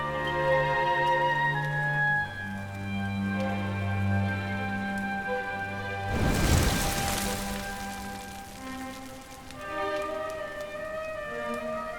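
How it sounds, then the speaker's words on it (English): Steady rain falls in a Dragon Quest XI game scene, a soft hiss beneath background music that swells into a louder, denser downpour midway. "Looks like the rain's dying down."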